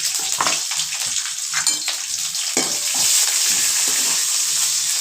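Mustard seeds and chillies sizzle and crackle loudly in hot oil, a continuous close frying hiss with scattered pops and stirring.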